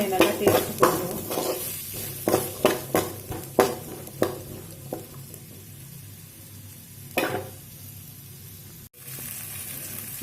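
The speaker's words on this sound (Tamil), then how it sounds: "நல்லா வதக்கிக்கோங்க. பெரிய வெங்காயம் கூட போட்டுக்கலாம்." Small onions sautéing in a pan for country chicken curry: close, repeated scraping stirs of a spoon against the pan over a steady, continuous sizzle, with no talking.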